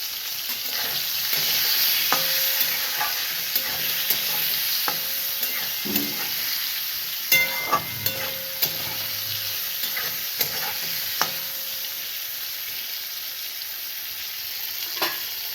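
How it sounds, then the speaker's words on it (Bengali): Pointed gourd (potol) fries in oil seasoned with cumin, a continuous close sizzle broken by scattered clinks and scrapes of stirring. "পটলগুলোকে ভাজা হবে"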